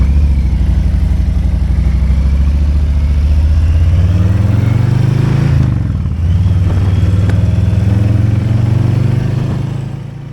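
A motorcycle is ridden in winter weather, its engine droning steadily and close with a rumbling low tone that dips briefly midway as the revs shift, and no talking is heard over it.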